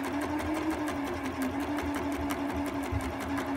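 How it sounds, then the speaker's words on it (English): Sewing machine stitching around the edge of a jogger pocket, a fast steady whirring hum with rapid rhythmic needle ticks, close and continuous with no talking. "I'm just going to stitch down around the edge of the pocket, curve around."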